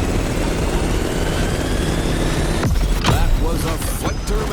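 Steady aircraft engine drone from a plane coming in to land in The Crew Motorfest, a continuous loud roar overlaid by game music and voices talking.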